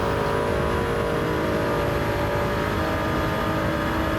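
A Toyota Supra in Gran Turismo 7 lapping Spa holds a loud, steady engine drone at high revs, continuous and close with no talk over it.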